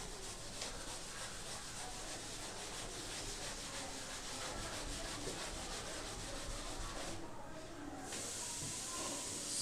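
A board being rubbed clean during a physics lecture on refraction through a prism, heard as a steady, close scrubbing hiss that runs almost unbroken for several seconds.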